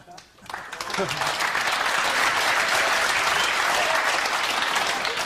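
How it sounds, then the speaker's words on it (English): Spectators applaud at a World Cup of Pool match between the Philippines and the United States, the clapping swelling quickly after a brief quiet start and holding loud and dense throughout. "The applause from the combination."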